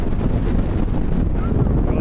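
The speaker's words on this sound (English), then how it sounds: "It's so windy." Strong gusts of wind buffet the microphone outdoors at a scenic overlook, a constant loud rumbling roar that fills the whole clip.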